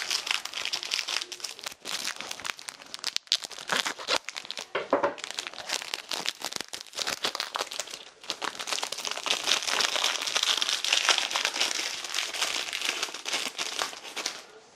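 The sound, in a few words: crinkling wrapper while opening an unboxing package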